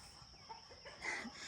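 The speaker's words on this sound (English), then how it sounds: "If you can hear the chickens" Farm chickens cluck in short agitated bursts, unsettled by dogs playing nearby, faint and somewhat distant outdoors.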